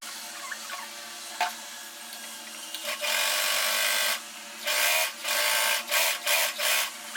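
A sewing machine stitches along the lining edge of a blouse, running in loud, close bursts: a long steady whir, then several shorter start-stop runs separated by brief pauses, with no talk.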